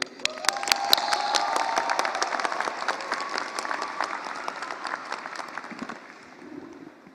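A large audience at a university computer science commencement ceremony claps steadily, with a sustained wash of applause and a few cheers that slowly fade toward the end.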